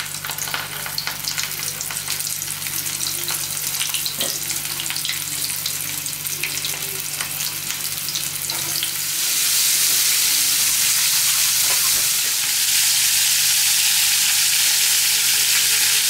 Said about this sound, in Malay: Sekarang nak goreng udang untuk sushi.